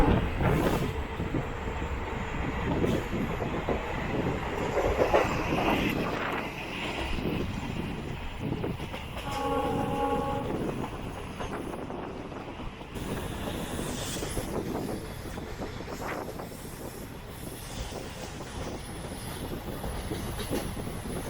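The 16325 Nilambur Road - Kottayam Express runs on rails between Angadippuram and Shoranur in Kerala, a steady loud rumble of wheels and carriage noise with clattering throughout, and a brief horn-like tonal passage midway.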